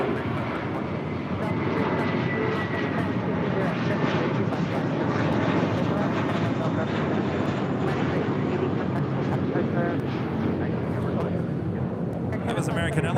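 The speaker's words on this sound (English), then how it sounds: "That was American Airlines Flight 1980 heading to Dallas, Fort Worth, Texas, and at A321." An American Airlines Airbus A321 jet roars loud and steady at close range, filling the whole stretch with broadband engine noise while a voice talks over it.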